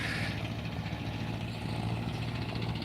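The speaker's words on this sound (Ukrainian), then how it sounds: "Поїхав трактор." A tractor engine runs loudly and steadily close by as it pulls away to spray herbicide on a rapeseed field, a continuous mid-pitched rumble with no speech over it.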